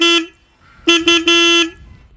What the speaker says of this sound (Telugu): చాలా లౌడ్ అయితే ఉంది హార్న్ అనేది.